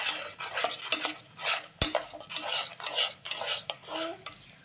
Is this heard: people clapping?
no